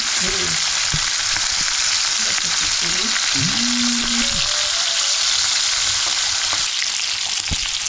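Mackerel coated in masala frying in oil on a wood-fired clay stove, a loud, dense, unbroken sizzle close by with a few faint tonal chirps over it.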